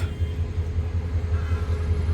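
The Sagarika commuter train, hauled by a 2900-series diesel locomotive, rolls around a curve into Chandpur station with a steady low engine rumble and faint rail noise.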